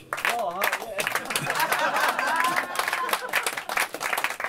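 Audience applause with scattered clapping and crowd noise, steady and fairly loud throughout, with voices and some singing-like tones mixed in underneath.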